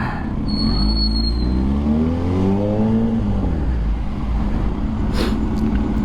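Engine noise in slow, heavy traffic on a hot day: a steady, loud low rumble with a whining, rising rev from a nearby vehicle and a brief high squeal, with no voices.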